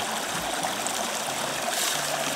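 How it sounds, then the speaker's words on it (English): Water flowing steadily through a fluid bed gold sluice with a classifier screen as dirt is dumped onto the top: a continuous close rushing, trickling wash with no distinct impacts. "Dump that right onto the top of the sluice,"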